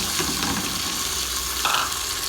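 Garlic paste frying with onions in a pan for kunna gosht, giving a dense, continuous close sizzle with a brief brighter hiss near the end.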